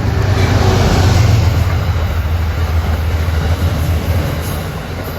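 A Metro-North express train passes close by along the Hudson line, a loud, steady rumble and roar of wheels on rails that holds for several seconds with no talk.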